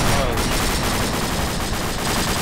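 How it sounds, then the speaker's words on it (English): Dense, loud gunfire and explosions roar without a break in a Vietnam War combat video game, close and overwhelming. "I shot the gun"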